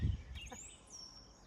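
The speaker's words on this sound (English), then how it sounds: "Listen to the birds" Small songbirds along the Appalachian Trail near McAfee Knob, Virginia, in April, giving a few faint, thin whistled chirps in the distance against a quiet outdoor background.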